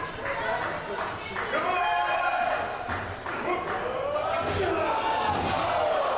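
A wrestling crowd at a match cheering and shouting continuously, loud and close, with a few thumps from the ring mixed into the roar and a commentator talking over it.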